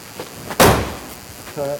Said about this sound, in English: Door closes good